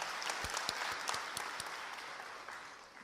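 A crowd at a government loan-distribution event for women's self-help groups in Bhopal applauds, a steady wash of clapping with a few sharp close claps, fading slightly toward the end; no one talks.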